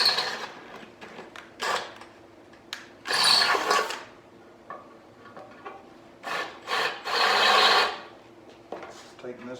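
A drill bores a larger hole through the steel frame rail of a 1971 Plymouth Cuda, grinding in several rough bursts of varying length separated by brief pauses, close and fairly loud.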